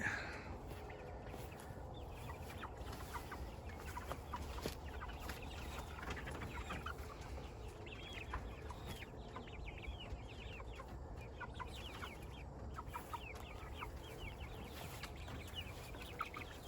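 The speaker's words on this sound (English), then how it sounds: "So there's one that I think is a rooster." Meat chickens around eight weeks old cluck steadily, with a rooster among the flock, in a dense continuous chorus of overlapping calls close by.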